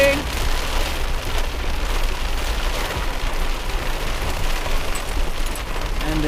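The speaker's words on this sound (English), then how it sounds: "No, it's raining." Heavy rain pouring down at a carp-fishing lake: a dense, steady, loud hiss of drops on surfaces that fills the whole stretch without pause.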